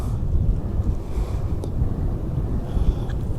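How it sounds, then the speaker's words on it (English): Strong gusts of wind buffet a lochside pier, a dense continuous low rumble with steady roar and no pauses throughout. "And that wind is very windy"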